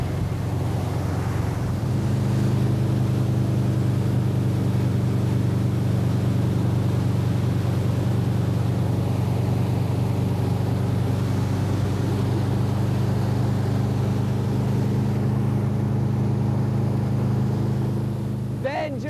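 A motorboat towing a wakeboarder runs with a steady, loud engine drone that holds nearly unchanged throughout, while voices are heard faintly over it.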